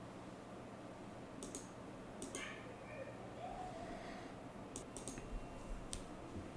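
Several sharp computer mouse clicks in quick bursts at a desk, fairly close and crisp over a quiet background hiss.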